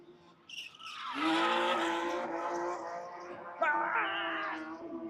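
A drift car at a drift club event in Jackson, Michigan revs hard with a sustained, rising engine whine and rough exhaust, cut through by a sharp burst partway through, fairly close and loud.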